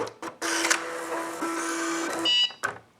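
A Cricut Lite cutting machine cuts a paper card, giving a steady mechanical whir with a higher buzzing surge near the end, then a few short clicks and stops.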